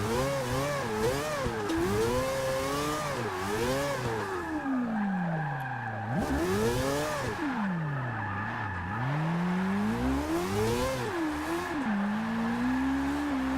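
Mazda Miata drift build in Forza 6 revs hard and continuously, the engine note climbing and dropping in repeated swoops as it accelerates and lets off, loud and close with tire squeal mixed in.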